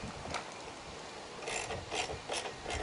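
A wrench snugs a small locking nut with a flat washer onto an anti-seize-coated bolt on a pool slide flange, producing short bursts of close, scratchy ratcheting clicks, with the busiest strokes in the second half.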